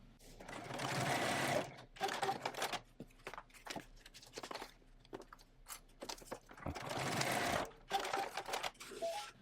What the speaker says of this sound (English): now I'm just going to baste across the bottom of this just to hold this down